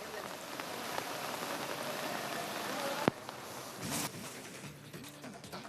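Heavy rain in Karwar on the coast, pouring as a dense steady hiss with spattering drops on surfaces, a sharp knock partway through and a brief swell in the downpour.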